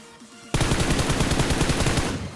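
Rapid burst of M4 rifle fire in PUBG erupts after a half-second pause and keeps up a steady, loud automatic rattle to the end of the clip.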